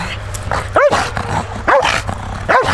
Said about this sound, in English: We make barking and I send him on the barking.